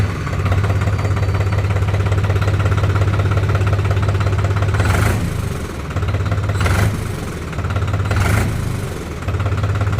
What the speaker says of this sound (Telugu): సో ఒకసారి వెహికల్ని స్టార్ట్ చేసి సౌండ్ ఎలా వస్తుందో విందాం.